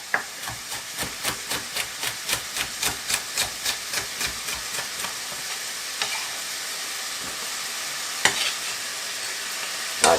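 Saltfish with carrot, tomato and red pepper fry in a pot for a Jamaican pak choi dish, giving a constant sizzle with a run of about fifteen rhythmic, close stirring scrapes that thin out into a few scattered knocks, with no talk.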